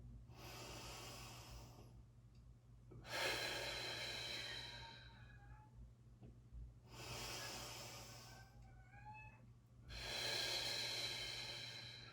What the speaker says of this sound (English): take some big breaths whereby you allow your full rib cage to expand fully